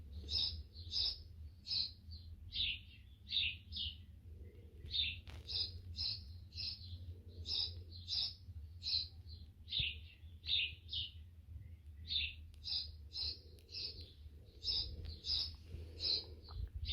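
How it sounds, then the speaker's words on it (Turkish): Repeated high, bright sparrow chirps played from a recording in quick bursts, steady and continuous over a low background hum indoors. "Rahatlaması için kuş sesleri açtım."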